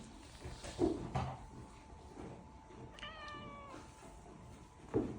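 A black cat meows loudly for food indoors in the evening, one drawn-out harmonic meow in the middle of the clip with a few thumps and knocks around it, no talking.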